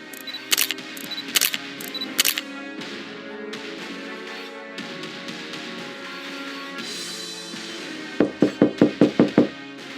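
Knocking on a door comes in short, sharp bursts: three raps early on, then a quick run of about six hard knocks near the end, with quieter rustling and room noise between.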